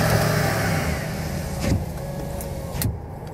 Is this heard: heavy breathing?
no